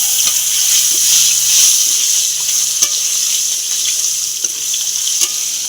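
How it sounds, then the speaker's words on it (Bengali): Chopped tomato frying in oil with a poppy seed, whole garam masala and bay leaf tempering, a steady bright sizzle and hiss with occasional light stirring taps, close and continuous, with no voices. "টমেটো কুচিটা হালকা ভাজা হয়ে এলে"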